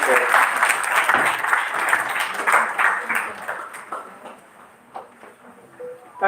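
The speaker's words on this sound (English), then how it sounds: "Please give a huge round of applause for Director PR, sir." An audience at a pharmacy college event applauds a director as he is welcomed to speak, clapping loud at first then thinning and fading, with talk emerging near the end.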